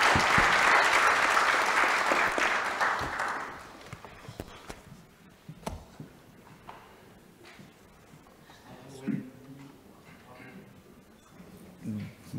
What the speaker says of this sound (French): je crois qu'ils méritent vraiment tous vos applaudissements